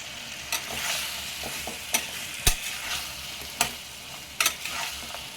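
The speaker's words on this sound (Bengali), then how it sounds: "এবার ভেজে রাখা কুমড়ো আর আলুগুলো দিয়ে দেবো হালকা একটু নাড়াচাড়া করে নেব" Fried pumpkin and potato pieces are stirred in a pan with cashews, a soft continuous sizzle broken by sharp, separate clacks of a spatula against the pan roughly every second.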